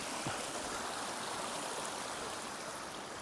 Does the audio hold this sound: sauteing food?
no